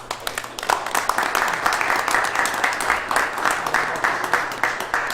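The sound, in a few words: round of applause at township committee meeting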